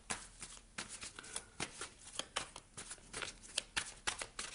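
Tarot cards are shuffled and drawn by hand, heard as quick papery riffles and soft slaps in an irregular rhythm, close and quiet, with no voice.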